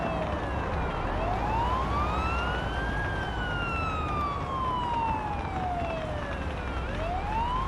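An ambulance siren in the paramedic simulator game Ambulance Life wails in slow rising and falling sweeps, loud and steady over a low engine rumble, with no voices.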